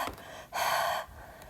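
A voice imitates the breathy Arabic letter Ha, a single sharp, forceful exhale like someone reacting to spicy food, close and clear, framed by quieter breaths.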